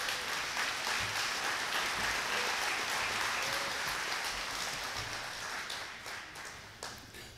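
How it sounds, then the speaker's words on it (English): An audience at a gathering applauds and cheers in a steady, dense roar of clapping that holds for several seconds, then begins to thin and fade toward the end. "You're doing all that cheering."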